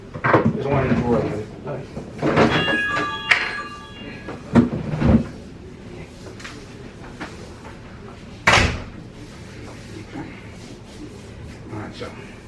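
Drawers and cupboards are opened and closed in a clinic room during foot care, with several wooden knocks and slides scattered across the clip, the loudest near the start and middle, beneath intermittent talk.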